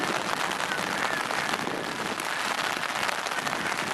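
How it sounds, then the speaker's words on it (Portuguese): Heavy rain falls steadily on surfaces all around, a dense, even hiss with no let-up, close and loud throughout. "Meu Deus, que chuva chata."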